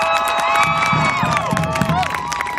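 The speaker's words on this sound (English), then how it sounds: "Give him another round of applause" A crowd at a live street protest cheers and whoops loudly, voices and shouts layered over scattered clapping in a brief, energetic burst.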